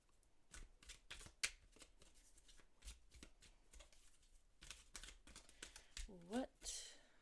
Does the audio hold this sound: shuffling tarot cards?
yes